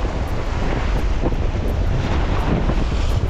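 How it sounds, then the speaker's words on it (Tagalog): Strong wind buffets the microphone at a seaside fishing spot in Montemaria, Batangas, a loud continuous roar with surf washing underneath and no voices. "Yan, medyo mahangin lang."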